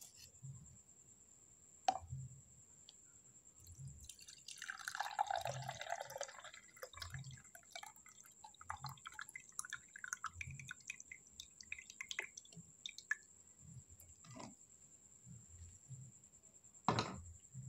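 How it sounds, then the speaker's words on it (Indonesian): A warm herbal rhizome drink pours and drips into a glass in bursts, with soft splashing and trickling, interrupted by a few sharp knocks, against a steady high electrical whine. "langsung saja kita tuangkan ke dalam gelas"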